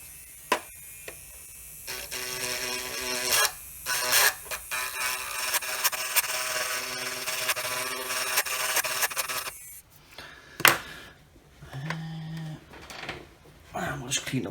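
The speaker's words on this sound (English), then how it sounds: "I might use my little grinding pen, which is kicking about somewhere, just to clean that up slightly." A small grinding pen cleans a corroded connector inside a 1978 CGL Galaxy Invader, giving a steady, fairly loud whirring buzz for several seconds, then brief knocks and handling noises as it stops.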